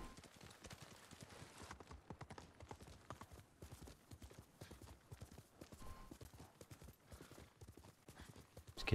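Horse hooves in the video game Ghost of Tsushima, a quiet, steady clip-clop of a galloping steed with rapid, evenly spaced hoofbeats throughout.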